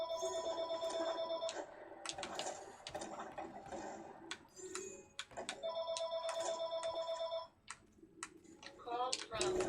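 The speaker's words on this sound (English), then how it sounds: "Call from cell phone." A telephone rings with an incoming call from a cell phone, its repeated electronic tones sounding in bursts over clicking and typing, with people talking in the background.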